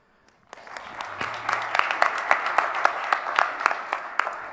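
Audience applause at a primary health care nursing panel, steady clapping that rises after a quiet start and holds dense and sustained for several seconds, with sharper individual claps poking through.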